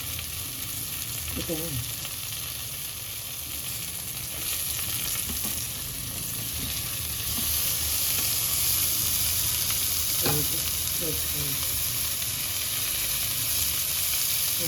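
Onion, curry leaves and tomato pieces fry in a pan for onion chutney, a continuous dense sizzle and hiss growing slightly louder midway, with a few stirring scrapes, close up and uninterrupted by talk.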